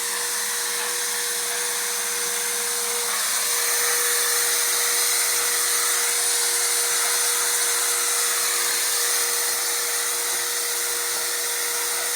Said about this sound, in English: Then we go over the polishing pad, the buffer.